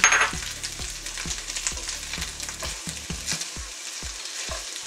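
Potato gnocchi frying in a sage butter pan while four ounces of Parmesan are tossed through, a bright sizzle under regular soft clacks of a utensil against the pan.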